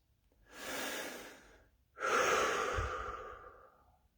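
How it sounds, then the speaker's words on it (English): Two slow, deep breaths taken during a meditation session, a long inhale followed by a fuller, louder exhale, close and breathy with no talking. "But take those breaths."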